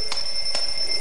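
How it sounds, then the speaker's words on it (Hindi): An alarm held right beside the ear rings with a shrill, steady high electronic tone, pulsing in two quick bursts within a second, loud and close with no talk. "अरे कान के पास लाकर क्यों अलार्म बजा रहे हो? ऑफ करो इसे।"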